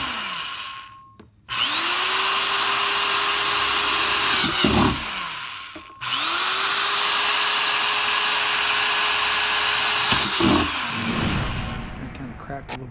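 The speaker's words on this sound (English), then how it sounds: "we use this power drill here to drill some holes in the back of the plastic container" A power drill whines steadily in two long bursts, drilling holes in a plastic container, spinning up and winding down between them, close and loud.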